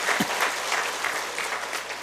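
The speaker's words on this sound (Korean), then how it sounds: "박수하시겠습니다" Sustained congregation applause at a church service, dense and even with many hands clapping at once, loud and close for the whole stretch without any voices.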